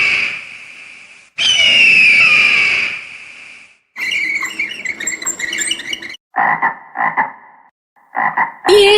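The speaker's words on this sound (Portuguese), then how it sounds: "Um sapo." A frog croaks loudly and up close in several bursts, from long rasping calls to short repeated croaks separated by brief silences, with no voices.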